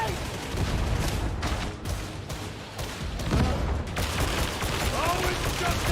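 Dense, continuous automatic gunfire sprayed indiscriminately in the grimdark co-op shooter DarkTide, loud and close with overlapping bursts and booms, nearly unbroken for several seconds under faint game voices.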